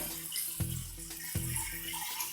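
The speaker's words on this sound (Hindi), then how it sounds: "ये अब इसमें से गर्म पानी निकलना शुरू हो गया" Hot water runs from an instant electric heater tap, a faint, steady splashing hiss broken by a few soft knocks and clicks.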